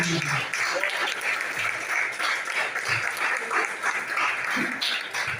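Church congregation applauding steadily throughout, a dense wash of clapping with faint voices mixed in underneath.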